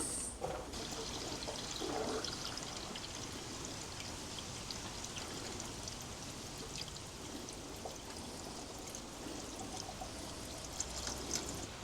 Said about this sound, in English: Time to put the water in the radiator.